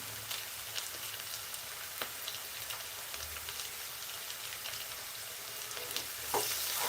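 Crushed garlic dropped into cluster beans frying in a pan, with a continuous close sizzle and crackle, occasional clicks of a utensil and a louder hiss near the end, and no speech.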